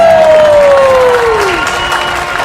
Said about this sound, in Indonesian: semakin maju episode, tepuk tangannya semakin banyak ya